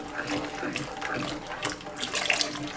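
Milk poured into a Cookeo pot while making a potato, corn and ham soup-stew, a soft continuous liquid splashing and trickling, fairly quiet and close, with faint clinks.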